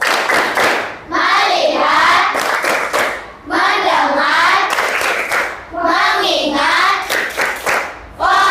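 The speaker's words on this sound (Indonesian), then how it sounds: "Mari kita bersama-sama tepuk fokus dulu ya, biar semangat ya. Tepuk fokus." A class claps hands in a quick rhythmic focus-clap pattern, loud and close, with bursts of chanting voices between the clapping.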